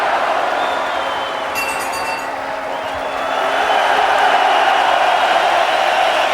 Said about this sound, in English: And the crowd on its feet here in Magdeburg for their champion from Berlin, Sven Ottke.